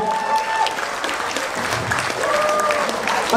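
A seminar audience at an Indonesian conference bursts into steady, dense applause that holds at full strength throughout, with a few voices faintly mixed into the clapping.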